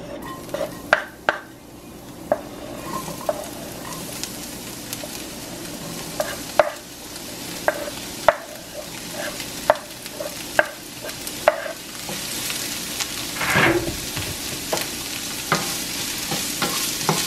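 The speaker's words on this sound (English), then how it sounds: "then we're gonna saute the onions and the garlic" Onions and garlic sauté in vegetable oil, a steady sizzle running throughout with repeated clicks and clatters of stirring and utensils against the pan, and a brief louder scrape near the end.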